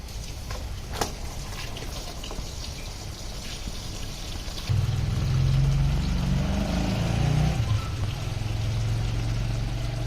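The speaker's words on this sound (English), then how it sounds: "now I will fill the water until it reach the high water level" Water pours into a tank for a mushroom house watering system, with a steady low rushing flow that starts partway through and grows fuller, over a constant background hum.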